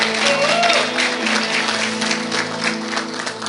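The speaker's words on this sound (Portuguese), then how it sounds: "Vamos aplaudir esse servo do Senhor." A church congregation applauds a brother standing up during a service, a steady, dense wash of clapping from a crowd held at an even level throughout, with faint voices underneath.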